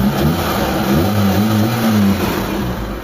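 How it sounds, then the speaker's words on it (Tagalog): A Mitsubishi Lancer engine idles smoothly after a carburetor replacement, a loud, steady mid-pitched hum that rises and falls a little in pitch, with no other sounds over it. "sobrang tahimik ng makina niya. Walang palag yung makina mga boss"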